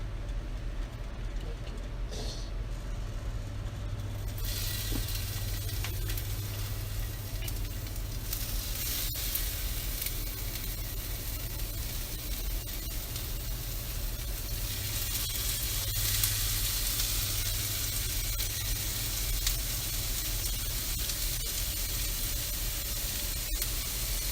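Steak for a Philly cheesesteak sizzles in a hot pan, a steady broadband hiss running the whole time and brightening partway through, with voices talking over it at times.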